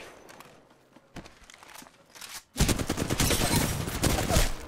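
Gunfire in Apex Legends, a quieter burst of shots with footsteps early on, then a loud sustained fusillade of rapid automatic fire filling the second half.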